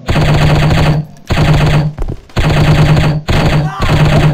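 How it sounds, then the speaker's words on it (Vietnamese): Rapid machine gun fire in the shooting video game Striker, loud sustained bursts of automatic shots separated by brief pauses, close and dominant. "Đấy, có tiếng súng."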